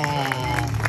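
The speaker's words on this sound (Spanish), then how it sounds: "Nuevamente denle un fuerte aplauso a la quinceañera." Guests at a quinceañera birthday party clap for the birthday girl, a brief round of applause over steady background music.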